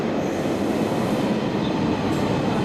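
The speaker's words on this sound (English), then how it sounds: "here comes our train" A train pulling into a station in Milan, a loud, steady rolling rumble with a faint squeal of wheels near the end, close by and without voices.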